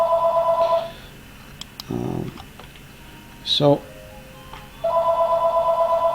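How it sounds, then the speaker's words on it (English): Telephone ringtone trilling in repeated bursts at the start and end, with a brief spoken word and a short clatter in the gap between rings. "I'm going to pause the video right now because I'm getting a phone call."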